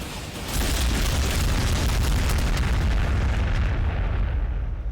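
Artillery fire in Warhammer 40,000: Sanctus Reach swells into a loud, sustained booming roar with crackling bursts layered over heavy low rumble, then eases off near the end, with no talking.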